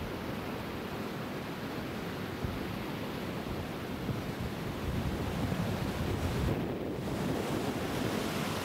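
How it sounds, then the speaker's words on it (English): Ocean surf on the New Zealand coast roars as a loud, continuous broadband wash, with wind buffeting the microphone and surging slightly louder midway through. "We can still hear the ocean behind us."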